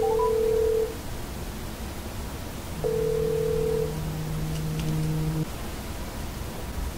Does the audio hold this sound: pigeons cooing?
no